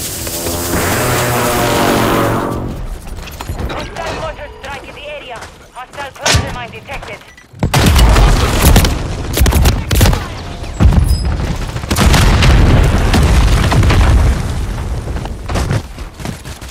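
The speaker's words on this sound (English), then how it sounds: "Hostile airstrike near your location." Heavy airstrike booms in Call of Duty Warzone on Fortune's Keep, loud rumbling blasts with crackling gunfire around them, and voice announcements over part of the barrage.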